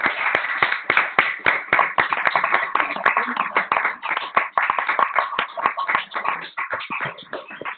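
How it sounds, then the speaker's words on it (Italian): Online participants clap together over an unmuted video call, a dense, slightly tinny patter of many hands that continues steadily for several seconds. "così ti dedichiamo un applauso"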